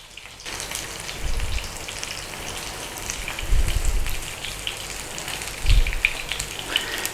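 Salmon fillets pan-searing, a steady close crackling sizzle running throughout with a few brief low thumps, no voices.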